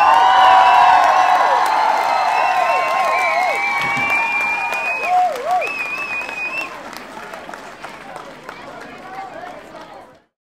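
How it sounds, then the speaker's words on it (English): An audience bursts into applause and cheering at a talk, loud clapping at first with a few whoops and whistles, then slowly thinning and fading away to silence. "let's give him some claps for that one."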